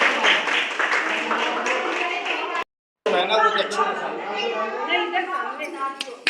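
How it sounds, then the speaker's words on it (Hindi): Guests clap their hands at a village wedding, producing a dense run of applause mixed with lively chatter and voices. The sound cuts out briefly near the middle, then the clapping and talk resume. "ताली बजाओ, ताली।"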